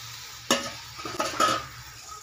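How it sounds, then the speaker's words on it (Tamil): Cleaned dry fish goes into a pan of frying onion, tomato and chilli powder and is stirred, giving a few scraping strokes over a low sizzle, close and with no voices. "சுத்தம் பண்ண கருவாடை போட்டுடலாம்"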